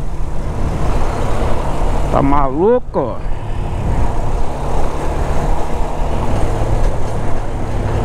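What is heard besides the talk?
traffic jam with cars and trucks, heard from motorcycle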